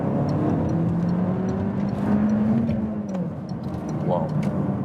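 A 270 hp 2016 Peugeot RCZ-R in second gear pulls hard to overtake, its engine note climbing steadily in pitch from inside the cabin as a person talks over it.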